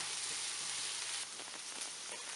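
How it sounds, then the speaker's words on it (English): Onions sizzle in a sauté pan for soup, a bright continuous frying hiss with faint stirring ticks, close and steady. "You don't want to saute the onions very much"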